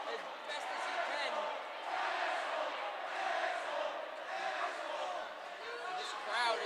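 Crowd noise at a varsity high school hockey playoff game between Connetquot/Sayville and East Islip, a steady broad roar of cheering spectators with swelling peaks, heard close and continuous throughout.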